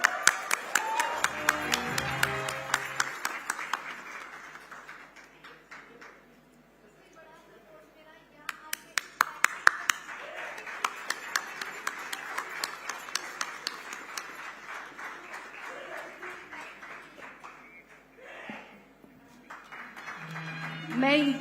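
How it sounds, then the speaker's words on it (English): Audience applause at a live Indian of the Year awards ceremony, loud sustained clapping through most of the stretch with a brief lull in the middle, mixed with music or crowd noise and a host speaking at the start. "Ladies and gentlemen, a huge round of applause for Hina Saifi."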